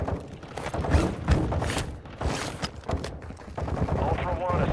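Bursts of video game gunfire in a squad-based shooter match, repeated shots and thuds throughout, with players talking over the action.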